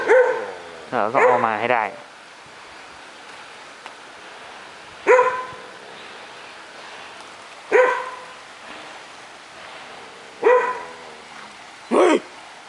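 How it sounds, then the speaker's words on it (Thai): A dog barks in short, sharp single barks spaced a few seconds apart, moderately close and loud, with people talking briefly at the start. "โดนเห่าโดยหมานะครับทุกคน"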